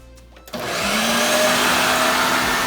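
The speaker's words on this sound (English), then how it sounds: "we're gonna be putting it in the food processor to chop up into multiple pieces" A food processor starts up and chops bologna: a short click, then a loud, steady motor whir that holds for the rest of the clip.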